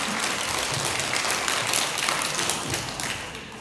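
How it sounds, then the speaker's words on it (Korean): An audience at a Buddhist temple's Saturday dharma talk claps in a dense, steady burst that carries on throughout and tapers slightly toward the end. "갑자기 박수를 막 치셔가지고"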